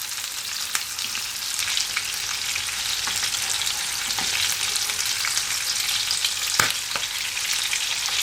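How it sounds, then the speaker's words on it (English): Lobster tail and claw pieces sauté in melted butter, giving a steady, close sizzle and crackle that runs the whole time, with a few sharper pops and light stirring noises and no talking. "we are just going to saute our pieces. We're gonna start up with our tail and our claws"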